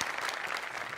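Brief burst of loud audience applause at a live comedy show, a dense wash of clapping from a crowd filling the moment.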